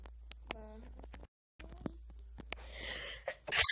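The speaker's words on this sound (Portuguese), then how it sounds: "Espirrei." A person sneezes near the end, a sharp breathy burst after a sharp inhale, following faint clicks and a short vocal sound in a quiet room.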